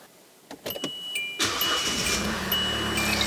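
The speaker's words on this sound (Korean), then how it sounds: "이렇게 시동을 걸어봤고요. 시동 굉장히 잘 걸리죠? 한 방에." A SsangYong Rexton W 2.2 4WD diesel SUV with about 136,000 km starts on the first try. A few clicks come first, then the starter catches and the engine settles into a steady, close, rumbling idle.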